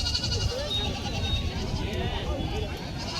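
Country goats bleating at a busy weekly goat market in Vasmat, rainy weather, loud nasal bleats close by with people talking over them throughout.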